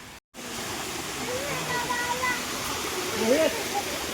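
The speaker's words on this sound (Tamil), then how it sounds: "போகிற வழியில் இந்த மாதிரி ஒரு குட்டி அருவிங்க." A small waterfall beside a hillside path to an ashram, a steady close rush of falling water with brief faint chirps over it; no speech.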